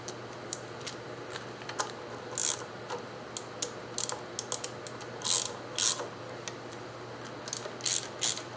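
A ratchet clicks in quick, uneven runs while tightening valve cover bolts on a 3800 Series II engine, close and crisp, with short pauses between bursts and a faint steady hum underneath.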